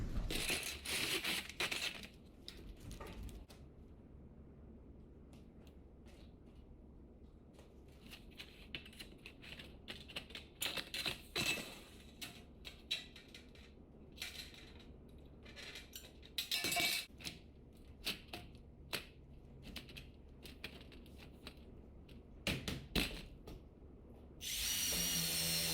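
Measuring, cutting and nailing metal flashing onto a mobile chicken coop: scattered clinks, scrapes and sharp taps of tools on sheet metal, mostly close and intermittent with quiet gaps, ending in a louder burst of clattering.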